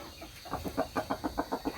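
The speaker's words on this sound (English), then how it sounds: "Here's the rooster." A rooster clucks in a steady run of short, rhythmic notes, about eight in quick succession, fairly close and clear with no talking.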